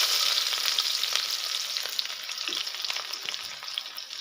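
Onion and green chili frying in oil with bay leaf in a wok, stirred with a spatula, giving a steady close sizzle with light scraping and clinks throughout, no talk.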